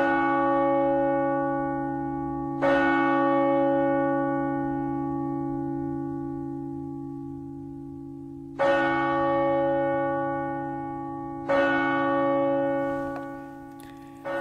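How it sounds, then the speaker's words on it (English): Angelus church bells broadcast on RTE radio ring out in three separate resonant strikes, each one leaving a long humming decay that fades slowly beneath the next stroke. "That is the Angelus bells."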